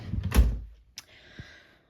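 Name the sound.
drawer of a safety-lock dresser being opened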